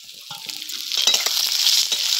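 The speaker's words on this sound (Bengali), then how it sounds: "এগুলো একটু লাল লাল করে ভেজে নেব।" Chopped onion and garlic fry in hot oil in a pan for lentil dal with spinach, a close, bright crackling sizzle that swells and grows denser after the first second.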